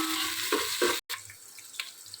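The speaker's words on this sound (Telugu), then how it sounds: "ఆనియన్స్ కొంచెం బ్రౌన్గా తిరుగుతున్నాయి కదా, వేగుతున్నాయి కదా" Onions frying in a pan with green chillies for chicken biryani, a steady sizzle with a few stirring scrapes and a brief break in the middle, close and moderately loud.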